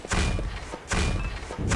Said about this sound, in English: Grenades making a little bit of damage there.